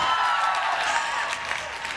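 Audience applause at a women-in-business conference talk, a steady wash of clapping from a crowd that holds evenly through the moment with no speech over it.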